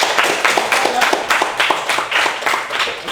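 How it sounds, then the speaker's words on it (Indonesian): A small classroom group claps together for about three seconds, a quick, steady burst of close hand claps. "tepuk tangan untuk kita semua dulu"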